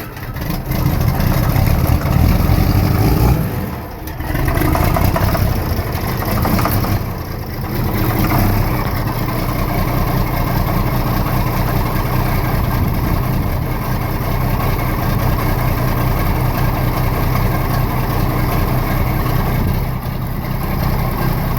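A John Deere 4430 tractor, started cold at 28°F with a little throttle, runs with a loud, steady low engine rumble and a couple of brief dips in level before settling into an even idle, with no talking.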